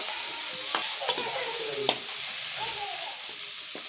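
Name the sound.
frying and stirring in a wok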